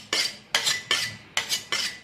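A kitchen knife is honed before cutting wild boar meat, five quick metallic scraping strokes in an even rhythm, close and crisp, with no voices.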